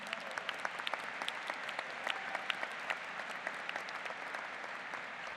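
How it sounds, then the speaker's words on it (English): Graduates at a university commencement clap steadily in a large gathering, sharp hand claps popping over a soft, continuous bed of applause at moderate distance. "You can cheer."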